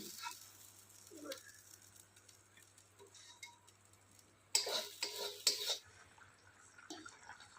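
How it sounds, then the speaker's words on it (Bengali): Cabbage ghonto cooked with hilsa fish head being stirred in a pan: light scraping and clinking of a utensil, quiet at first and then louder with a burst of stirring near the end, with no talking. "এখন কিছুক্ষণ নাড়াচাড়া করে নামিয়ে নেবে এটাকে"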